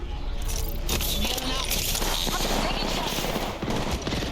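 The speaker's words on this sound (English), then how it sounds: "Getting shot at." Gunfire in the video game Apex Legends rattles in rapid automatic bursts that run almost the whole time, loud and dense, with voices talking over it.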